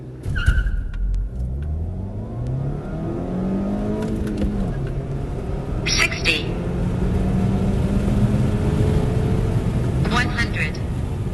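Volkswagen Passat CC 1.8 accelerating from 0 to 100 km/h, engine rising in pitch through several gear changes, heard from inside the car with a steady road roar and brief chimes.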